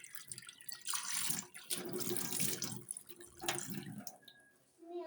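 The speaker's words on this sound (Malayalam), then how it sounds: "കൈ കഴുകുക." Hands are washed under a running tap: water splashes and gurgles into the sink in uneven gushes, close and fairly loud, ending with a brief drop in flow, with no talking.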